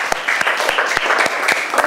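Schoolchildren clap together in a classroom, a brisk, close burst of many small hands with sharp accents, lasting under two seconds.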